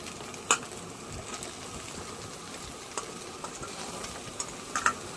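Mixed vegetables and crumbled fried fish roe fry in a pan with very little oil, giving a faint, steady sizzle broken by a few soft clicks and taps of stirring.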